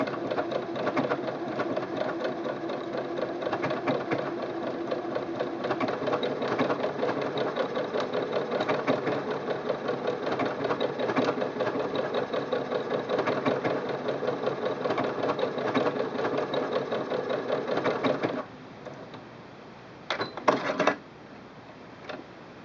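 A Singer Quantum Stylist 9960 sewing machine runs steadily while doing decorative stitching, a loud, fast mechanical whir and rapid needle chatter that stops abruptly near the end, followed by a few short bursts.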